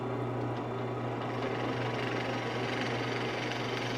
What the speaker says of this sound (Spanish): Igual voy a barrenar lo más profundo que pueda sin llegar a cruzar el grueso de la madera.